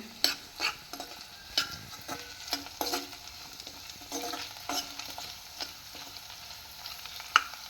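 Beetroot chutney fries quietly in a pan while a spoon stirs it, giving soft irregular scraping and clinking strokes over a faint sizzle, close and fairly low in level.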